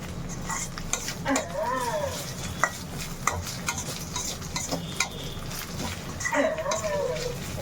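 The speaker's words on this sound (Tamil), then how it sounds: "கலரி விட்டுட்டே இருங்க, ஏன்னா தீஞ்சிடும், அடி பிடிச்சிட போகுது." Prawn gravy with green chillies cooking in a pan, stirred with a utensil that scrapes and clinks now and then over a low, steady sizzle, with a few louder bursts of clatter near the start and the end.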